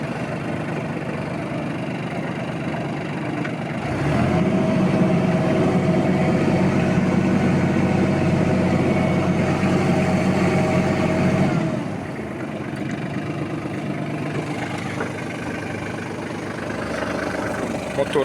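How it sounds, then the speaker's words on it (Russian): A Kubota KL25 Japanese 25 hp mini tractor idles with a smooth, steady diesel hum. It swells noticeably louder through the middle stretch, then settles back to a quieter idle. "Моторчик работает мягко,"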